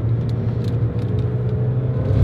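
A car's engine revs hard in first gear around a roundabout as a steady, close rumbling drone with a low hum and no talking.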